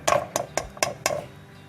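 Washed rice going into a pot of spices for prawn biryani, heard as five evenly spaced metallic taps and scrapes of a utensil against the pot, close and moderately loud.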